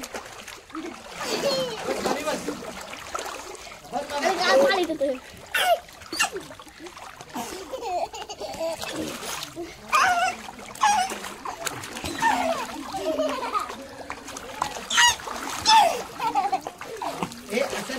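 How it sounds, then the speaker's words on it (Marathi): Intermittent water splashing and sloshing close by, mixed with a voice talking and squealing throughout. "पाणी नाही उडवायचं"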